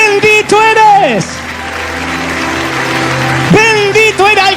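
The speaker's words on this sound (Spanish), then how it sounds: "Alguien tiene que aplaudir y celebrar más que eso." A church congregation claps and cheers during a sermon, a steady wash of applause and crowd noise rising between stretches of a preacher's loud, sung exclamations.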